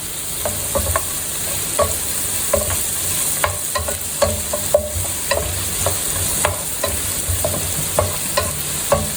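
Vegetables for a traditional one-pot vegetable pulao, sautéed golden on a low flame, with a continuous sizzle and repeated close scraping and clinking strokes of a ladle against the pot.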